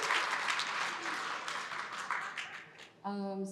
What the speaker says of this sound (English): One hand clap.